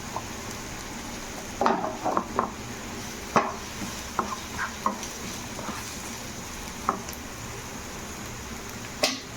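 Chopped garlic and green chilli being stir-fried in a pan for a dry chicken Manchurian, a soft low sizzle with scattered clicks and scrapes of a spoon against the pan, fairly quiet.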